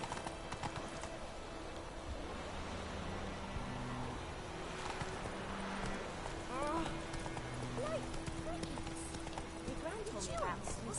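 Geralt's horse Roach in The Witcher 3 video game, hooves clip-clopping in a steady rhythmic gait across the ground, with game ambience, a faint whinny and bird calls, under talk.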